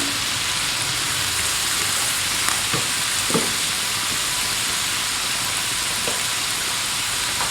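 Beef mince frying in a pan, a dense, even sizzle close up with a few scraping stirs, steady throughout and without voices.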